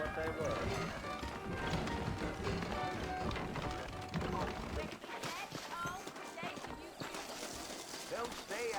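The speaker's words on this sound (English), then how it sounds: "I got the horses saddled up and ready out front." Horses' hooves clip-clop in a running rhythm in the Western video game Red Dead Redemption, saddled mounts moving beneath a busy mix of music, ambient sound and character talk.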